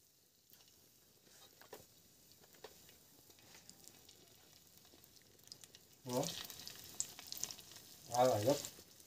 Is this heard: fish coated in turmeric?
yes